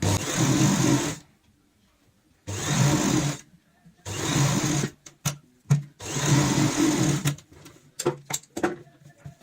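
A sewing machine stitches a seam on a fabric handbag in four loud, whirring runs separated by short pauses. Softer clicks and handling noises fill the gaps near the end.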